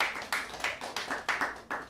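Faint, steady clapping in an even rhythm, a series of soft distinct claps heard from some distance.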